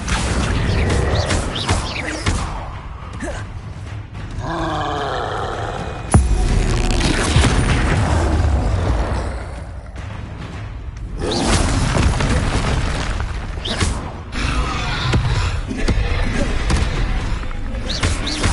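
Bombarda spell explosions in Hogwarts Legacy, repeated booming blasts and whooshing impacts across a busy fight, with a voice speaking at times between the hits.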